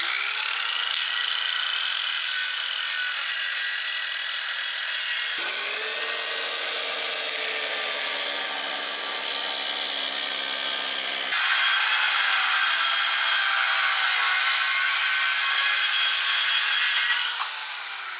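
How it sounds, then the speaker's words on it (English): A power saw cuts scrap plywood for the bottom shelf of a garage workbench, producing a loud continuous high whine and rasp in three long passes with brief pitch drops between them. "Now I'm using scrap plywood to cut the bottom shelf."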